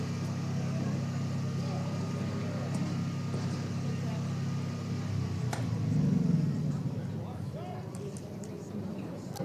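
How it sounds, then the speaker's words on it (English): A food truck's generator drones steadily at an outdoor high school baseball game, a low constant hum under ongoing talk that swells slightly before easing off. "the food truck is about to leave, and they shut down their generator"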